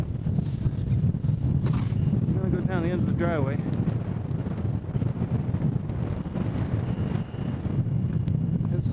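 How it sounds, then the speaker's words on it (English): Gusty wind buffeting outdoors after a 1994 snowstorm, a steady low rumble under someone speaking briefly. "Stop snowing, but it's still windy."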